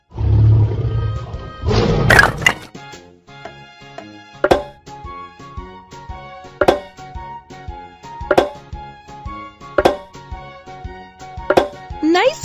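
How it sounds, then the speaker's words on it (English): A lion's roar rings out as an animated puzzle sound effect: one loud roaring burst early on, followed by a steady run of sharp clicks and thumps as puzzle pieces snap into place. "Lion."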